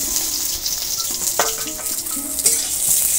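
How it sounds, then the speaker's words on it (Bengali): Pointed gourd pieces frying in oil in a pan, a continuous close sizzle with occasional stirring scrapes and clinks of a utensil against the pan. "এবার আমি পটলগুলো ভাজবো।"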